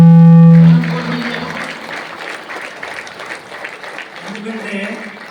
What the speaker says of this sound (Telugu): సార్కి ఒకసారి గట్టి క్లాప్